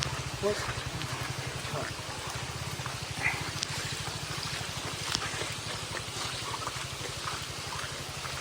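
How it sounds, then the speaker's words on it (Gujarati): The swollen Narmada river rushes past the half-submerged steps at Nareshwar as a constant broadband roar of flowing water, with a low rhythmic hum and a voice faintly talking beneath it. "પાણીમાં સતત પ્રવાહ વધી રહ્યો છે જોઈ શકો છો નારેશ્વર"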